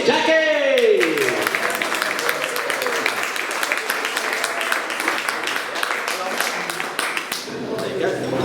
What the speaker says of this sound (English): please give a big, huge Isle of Wight round of applause to our Isle of Wight High Sheriff, Miss Jackie!